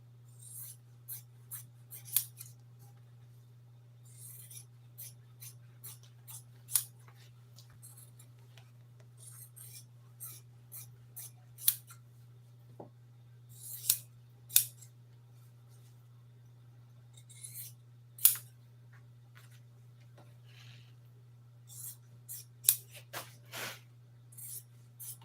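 Scissors snip pieces out of an old Toyota seat cover during upholstery work, giving sparse, sharp cuts and clicks at irregular intervals over a steady low hum, fairly close and alone.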